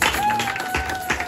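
Congregation at a worship service clapping and cheering together in a steady, dense burst of applause with crowd noise and a sustained musical tone underneath.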